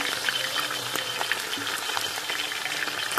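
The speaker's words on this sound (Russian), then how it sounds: "Сейчас начинаю жарить" Meat, including lamb, frying in a pan outdoors for Uzbek dimlama, a steady close sizzle with small crackling pops running throughout without voices.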